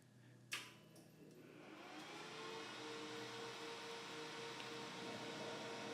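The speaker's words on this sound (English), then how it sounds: "When we turn the printer on, the white circulation will kick in and you'll see ink start to flow through these tubes." On an Ink Experts IE-30 printer, the white ink circulation starts up with a click, then settles into a steady, faint whirring hum with a soft hiss, running on evenly.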